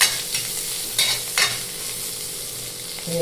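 Bitter gourd pitla frying in a pan on a gas flame, a close bright sizzle broken by a few sharp scraping stirs of a spoon, no talk.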